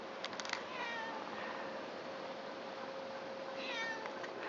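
A well-fed female cat that has just eaten a large piece of sausage meows twice, once near the start and again near the end, over a steady background hum.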